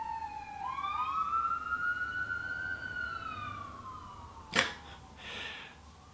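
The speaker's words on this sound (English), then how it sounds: "Sirens. Always. Somebody broke the law." A New York City police siren wails and sweeps in pitch from fairly close, followed by a sharp knock and a brief spoken phrase.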